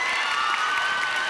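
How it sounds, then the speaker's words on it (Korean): Audience at a disability-awareness performance in a girls' high school breaks into applause mixed with cheering and high shouting voices, a dense steady crowd sound throughout. "박수 한번 주시고요"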